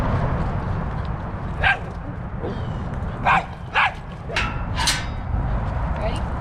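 A travelling dog gives several short, sharp barks and yips, spaced irregularly over a few seconds, with heavy low background noise from wind or a vehicle throughout.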